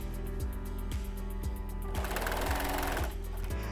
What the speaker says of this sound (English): I begin to serge through the binding and the quilt.